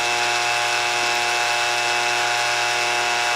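A power drill runs slowly in reverse, augering all-thread into epoxy inside a broken wooden gunstock, producing a steady, close motor whine with a constant buzzing tone for the few seconds it lasts.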